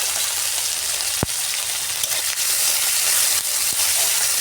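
Spices sautéing with chopped garlic, ginger and green chilli, giving a steady close hiss and sizzle of frying with a few faint stirring clicks.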